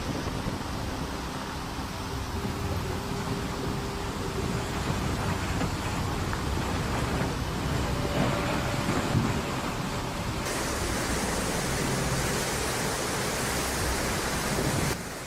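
Steady, dense downpour of heavy rain during a storm in Shaanxi, China, a continuous broadband hiss with no voices, while low thunder rumbles blend into the roar rather than standing out as distinct claps.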